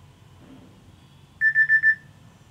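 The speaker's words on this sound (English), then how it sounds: "You get a beep sound when the alarm rings or the timer ends when you're on a call" A Samsung phone's timer alarm sounds during a call as four short, evenly spaced electronic beeps, clear and close over a quiet background.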